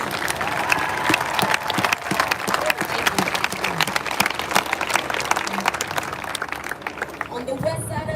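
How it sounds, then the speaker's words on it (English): A crowd at a Saturday protest in Chicago claps for the next speaker, dense outdoor applause with some cheering running steadily throughout, mixed with voices talking over it. "Round of applause for Melinda"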